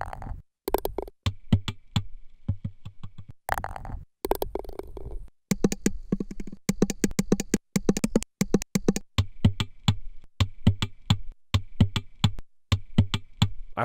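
A trimmed golf ball impact sample is played at different pitches as a quick series of short, sharp knocks and taps, some in rapid rhythmic bursts, separated by brief silences.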